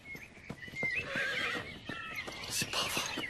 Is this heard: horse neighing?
yes